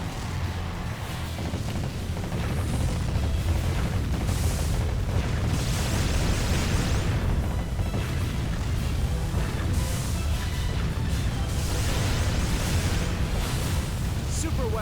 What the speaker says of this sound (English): Intense explosions are ripping through the enemy ship's interior.